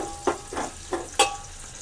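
Onions sizzle in a pan for mutton keema curry while a spoon stirs them, making four soft scraping strokes over a faint continuous frying hiss.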